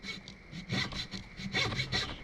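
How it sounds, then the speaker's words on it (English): A hand saw cuts through red cedar in a series of rhythmic rasping strokes, close and clear, with a brief pause between the first few pulls and a quicker run after that. "So I might have to do the meticulous work of sawing it by hand."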